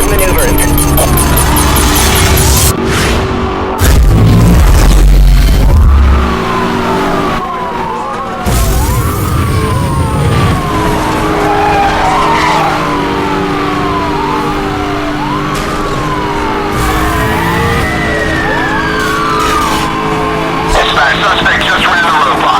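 Cars race through a police roadblock in Need for Speed Hot Pursuit Remastered, with loud engine drone, repeated wailing sirens sweeping up and down, and heavy crash impacts early on under a steady game mix.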